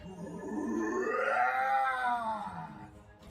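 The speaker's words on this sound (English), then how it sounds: "destroying his vocal cords and laying down some screams for the Warframe" A sound designer performs a raw, strained heavy metal vocal scream for the Warframe character Kullervo, one sustained guttural roar that rises and falls in pitch, loud and unaccompanied.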